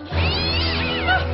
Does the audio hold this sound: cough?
no